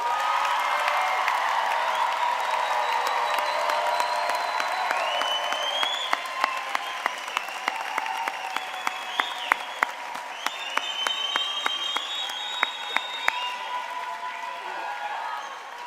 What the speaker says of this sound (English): let's have a Spartan round of applause for the class of 2026